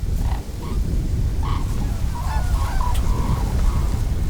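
A flock of white-naped cranes calls at their feeding ground, short honking cries rising one after another, moderately distant over a steady low rumble of wind or field noise.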